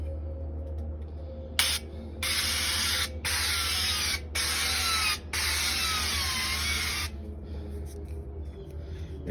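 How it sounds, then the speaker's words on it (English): Canola oil non-stick spray is sprayed onto a UDS smoker in several hissing bursts of about one to two seconds each with short gaps between them, loud and close over a low background hum. "we're going to take this canola oil non-stick spray"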